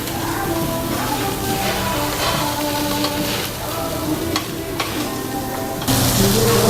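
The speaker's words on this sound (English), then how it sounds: "It is sizzling." Pork sizzles loudly on a Korean barbecue grill in a busy restaurant, a dense, close frying hiss with clinks of utensils and stirring, getting louder near the end.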